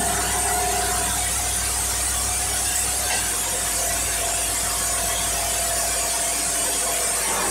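A dynamometer running with a Holley two-barrel carbureted engine on it, giving a steady, loud, broadband roar with a constant hum that holds unchanged throughout, no voices.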